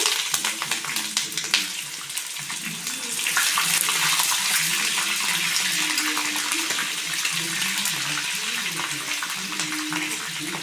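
Peanuts and green chillies fry in hot oil for raw mango pulihora, a steady broad sizzling hiss that grows louder after a few seconds and continues under a low murmur of voice.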